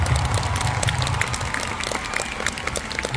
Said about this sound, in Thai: ขอเชิญปรบมือให้พี่แบ็คสเตจเลยครับ